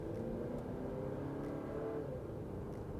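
A 2024 Chevrolet Traverse Z71 engine, over 300 horsepower, accelerating, a steady low engine drone with slowly rising tones, heard from inside the cabin without talk.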